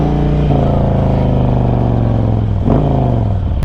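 A Zipper's Performance Harley-Davidson Road King runs on the road, its deep loud rumble steady and close, with a shift in pitch partway through as the engine note drops and picks back up.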